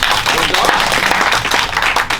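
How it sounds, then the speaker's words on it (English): Steady crowd clapping fills the whole stretch, dense and loud, with voices mixed in. "Clap if you're a dog person."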